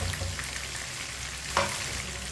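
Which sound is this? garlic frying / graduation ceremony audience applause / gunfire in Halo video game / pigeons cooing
garlic frying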